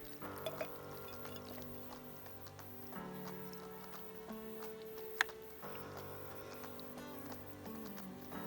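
Kirsch is poured over cherries and sugar outdoors, a faint, steady liquid trickle with light background sounds.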